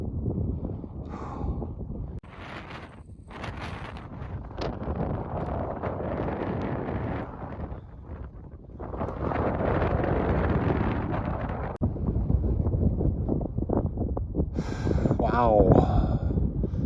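Strong gusts of wind on a mountain pass buffet the microphone in rough, rumbling waves that rise and fall, with short bits of voices in between.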